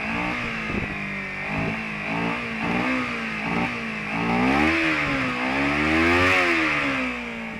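Engine of a 2012 Kawasaki Ninja 250R with the intake snorkel removed, revved repeatedly from close by, its pitch rising and falling in several swells and climbing to a long high rev near the end, with no talk.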